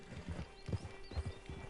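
Horse hooves clip-clopping in Red Dead Redemption 2, a steady run of close, thudding steps with faint background music and no talk.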